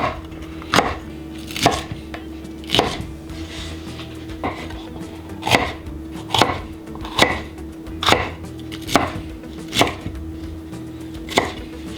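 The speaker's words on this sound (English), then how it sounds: "And now I'm going to prepare the peppers. Again, just cutting them into some small pieces." Peppers being chopped into small pieces on a cutting board for a vegan cheesesteak, about a dozen crisp, evenly spaced knife strikes, close and loud, over a steady low background hum.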